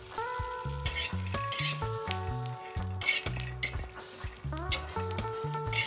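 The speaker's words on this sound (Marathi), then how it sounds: "आता या स्टेजला यामध्ये लसूण ऍड करायचा म्हणजे लसूण पण व्यवस्थित भाजल्या जाईल हिरवी मिरची सोबत" Garlic and green chillies roast on a hot tawa, sizzling softly while a metal spatula clinks and scrapes in quick uneven strokes close by, with no talking.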